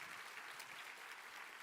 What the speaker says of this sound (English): please give a big round of applause to the Atomy CEO